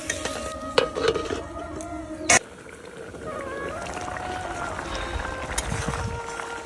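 Water is poured into hot frying spices in a pan for a shankar fish curry: a sharp clatter, then steady close hissing and bubbling sizzle at moderate loudness.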